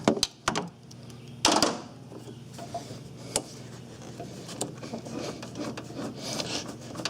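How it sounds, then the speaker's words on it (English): Close scraping, clicking and rubbing as a tool loosens the clamp on the lower radiator hose of a Ford Ranger, with a few sharp knocks at the start and irregular quieter scratching after, no talk. "I'm going to be taking off the lower radiator hose, so I'm just going to loosen up this clamp down here."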